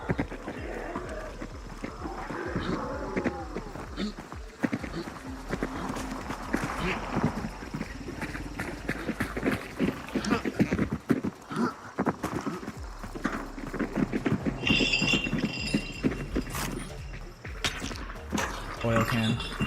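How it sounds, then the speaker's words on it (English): Horse hooves clip-clop at a steady running pace amid a busy, dense game soundscape, with voices talking over much of it. "I heard a horse over there."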